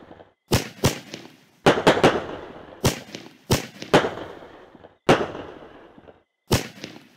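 Fireworks in the video game Fireworks Mania bang sharply again and again at irregular intervals, each burst trailing off into a crackling, fading rumble.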